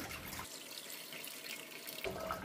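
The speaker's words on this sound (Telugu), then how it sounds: "స్టవ్ వెలిగించి ఒక కడాయి పెట్టి దీంట్లో వాటర్ వేద్దాము." A steady stream of water pours into a metal kadai (wok) on a lit stove, a continuous rushing splash that fills the whole moment.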